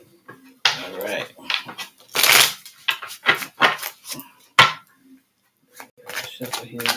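Tarot cards being shuffled make crisp riffling and flicking bursts in irregular clusters, close up, with short quiet gaps between them.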